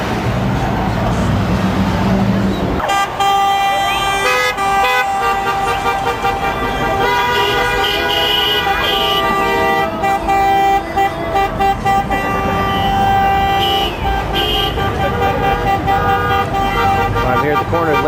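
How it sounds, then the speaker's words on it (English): Car horns toot and blare repeatedly from passing traffic at a street-corner immigration protest, long sustained honks layered over crowd noise and voices, loud and close throughout. "It's getting really loud down here with all the people honking and the crowd cheering."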